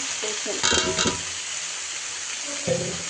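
Spinach, radish greens and stem amaranth greens frying with dried lotte fish, onion and bitter gourd in a pan, a steady close sizzle with two louder bursts of stirring scrapes partway through.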